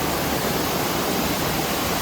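Roaring waterfall along the Bartram Trail, a steady, dense broadband rush of falling water that fills the whole clip, close and loud with no break.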